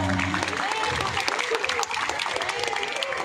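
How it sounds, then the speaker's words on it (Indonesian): A crowd of high school students claps together at a school assembly, a fairly quiet but continuous patter of many hands with murmuring voices beneath. "Tepuk tangan."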